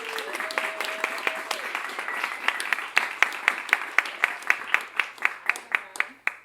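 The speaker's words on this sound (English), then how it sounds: "Let's please give her a warm round of applause." An audience at a book event applauds, a dense burst of clapping that gradually thins into a few distinct, louder individual claps near the end, with a faint voice at the start.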